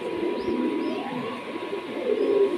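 Pigeons coo in low, soft, rolling calls, close by and repeated, over a steady background hum.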